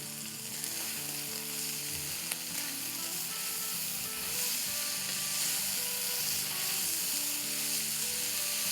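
Chopped green chillies, softened from the freezer, and coriander sizzle in a hot pan for lettuce wraps, a constant dense hiss that stays even for the whole stretch, with faint music underneath.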